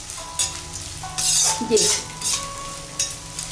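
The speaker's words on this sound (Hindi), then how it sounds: "हम ये गोंद डालकर भून लेंगे। हम इसे चलाते रहेंगे गोंद को और ये गोंद देखिए हमारा ये फूलेगा" Edible gum (gond) frying and puffing in hot ghee for besan laddu gives a loud, steady sizzle, with bursts of crackle as it is stirred in the pan; someone speaks briefly over it.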